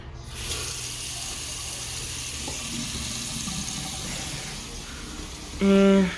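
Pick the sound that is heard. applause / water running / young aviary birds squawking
water running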